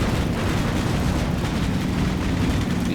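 A tank shell blast in the Combat Mission Black Sea war game roars as one loud, sustained explosive rumble filling the whole clip, dense and heavy with no pause or talk.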